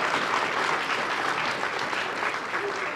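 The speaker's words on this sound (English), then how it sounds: "how about another round of applause for these incredible young people at Page Academy?" An audience applauds young performers from Page Academy at a Boston arts grantee reception, a sustained wash of clapping that holds at an even level for the whole stretch.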